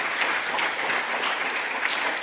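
Audience applause fills a climate justice summit hall, dense and steady from start to finish, a continuous wash of many hands clapping with no voices on top.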